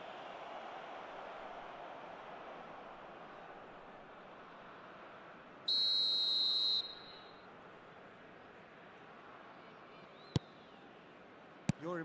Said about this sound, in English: Whistle's gone, that's foul.